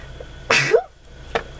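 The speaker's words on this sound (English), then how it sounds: "Now I'm gonna sneeze." A single sharp sneeze indoors, a quick burst with a short follow-up breath, then a faint throaty sound a moment later.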